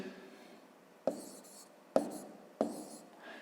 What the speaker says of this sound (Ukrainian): Отже, пишемо 910.